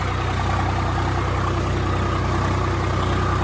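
A tractor engine runs while puddling a muddy maize field under cloudy skies. The low diesel rumble is loud, close and steady, with no talking.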